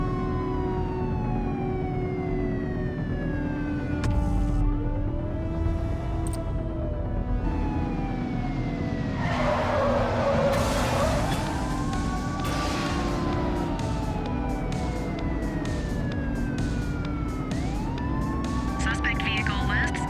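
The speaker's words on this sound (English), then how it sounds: "Looks like we're in for a police pursuit." Police sirens wail and sweep up and down during a vehicle pursuit in the video game The Precinct, several sirens overlapping loudly with engine noise beneath.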